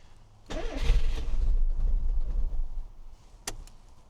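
A Rover Metro's engine cranks and catches at once, then settles into a steady, close idle that runs for several seconds, followed by a sharp click near the end.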